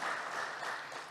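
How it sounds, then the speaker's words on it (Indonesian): Applause from an audience at an Indonesian capital-market event, a steady wash of clapping that fills the whole moment at moderate level and fades slightly toward the end. "Boleh tepuk tangan untuk kita semua."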